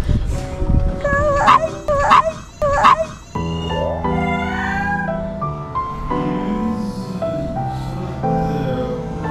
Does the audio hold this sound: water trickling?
no